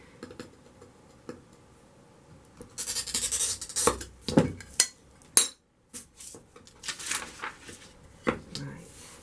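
A glass cutter scores a piece of stained glass with short scratchy, scrapey strokes, closely miked, among light clicks and handling taps, with no talk over them.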